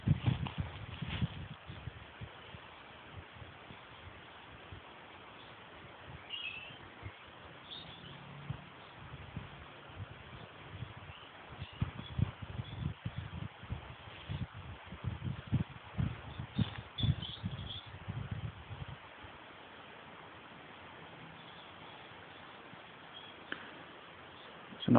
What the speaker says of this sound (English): I'll leave you with the sounds of the water and the birds.